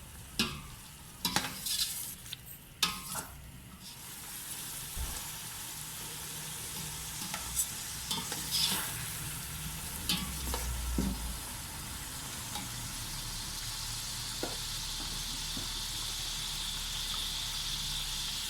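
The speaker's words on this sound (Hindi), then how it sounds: "इनको भी हम अच्छे से भुनेंगे। इनका मसाला अच्छी तरह ये मिक्स हो जाना चाहिए।" Tomatoes and green chillies fry and sizzle in a pan for village-style chicken pulao, a steady close hiss broken by spoon scrapes and stirring clatter, louder in the first few seconds.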